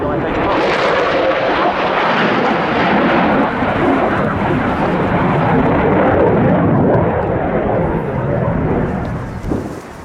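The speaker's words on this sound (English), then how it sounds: "Starting that 4-point roll there at 380 knots, but with full afterburner." Loud, continuous roar of a jet aircraft with full afterburner flying a four-point roll at 380 knots during the RIAT 2023 airshow, steady throughout and fading slightly near the end, with no talk.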